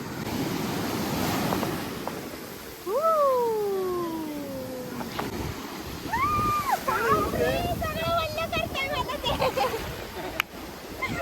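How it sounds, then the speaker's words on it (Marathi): Surf breaking on Ganpatipule beach, a steady loud wash of sea waves filling the whole clip, with a voice making drawn-out sliding calls and other people's voices over the surf. "एवढ्या जोरात आवाज येतोय ह्या समुद्राचा. तुम्ही आवाज ऐका."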